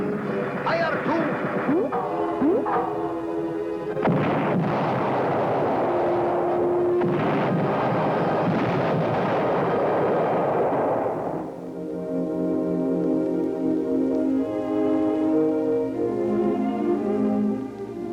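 Cannon fire booms out in an animated undersea adventure cartoon amid music and sound effects, with loud blasts and rumbling bursts early on, followed by a sustained roaring swell and then a musical passage.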